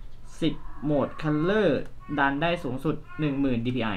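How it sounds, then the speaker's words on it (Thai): A cat meows repeatedly in the background of a room while someone talks over it, several drawn-out rising and falling wails that come close together and are fairly loud. "เสียงแมวมันหอนช่างมัน"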